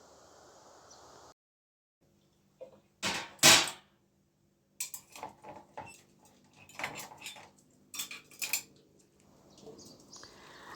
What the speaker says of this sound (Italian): li ho scolati dall'acqua, li ho appoggiati su una teglia e li ho messi in forno ad asciugare